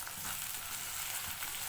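Small onions sautéing in a pan for mutton varuval give a soft, even sizzle and frying hiss that holds steady and fairly quiet throughout, with no talking.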